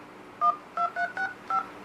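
Keypad tones from a TCL Idol X smartphone's phone dialer, five short distinct beeps in quick irregular succession, loud and close, with no talking over them.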